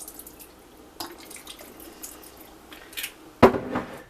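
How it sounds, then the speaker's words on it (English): Tap water splashing into a large stock pot at a kitchen sink, close intermittent gushes and drips with a loud metallic splash near the end and no talking. "And then I'm going to fill it up with water and get it going."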